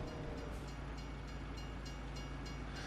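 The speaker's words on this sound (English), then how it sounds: "Oh, train coming." A train rolls past in the Farming Simulator 25 video game, a loud continuous rumble with faint rhythmic clacking pulses and no talk.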